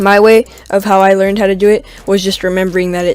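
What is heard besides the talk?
No distinct noise like a dog, phone or traffic.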